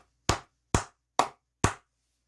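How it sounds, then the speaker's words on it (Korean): A single person claps their hands four times in slow, even succession, each clap sharp, loud and close, with clean silence between. "매우 기분 좋은 소식이기 때문에 크게 박수 한번 치고 가도록 하겠습니다"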